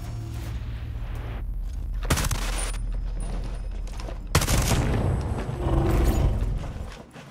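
Gunfire in the video game Ghost Recon, heavy booming shots breaking out over a constant roar of game ambience, two sharp blasts several seconds apart followed by continuing rumble, with no talk.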